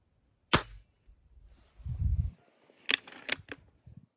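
A sharp single shot from an IZh-38 air rifle fired at 30 meters snaps out near the start, followed by a low thud and a few quick mechanical clicks.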